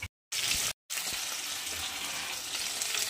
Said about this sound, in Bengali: মাছটা এতটুকু ভাজা হয়েছে